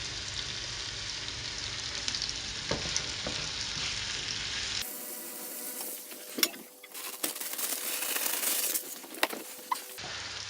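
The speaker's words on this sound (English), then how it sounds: "While those burgers are frying off" Steady sizzling and crackling of tofu burgers frying in a pan over medium-high heat, with occasional sharp clicks and pops throughout, no voices.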